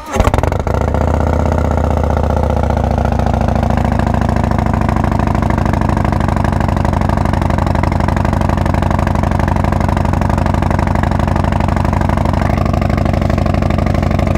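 Harley-Davidson Road Glide fitted with an S&S 475 cam fires up on a cold morning and settles into a loud, lumpy, rumbling idle, close and continuous throughout.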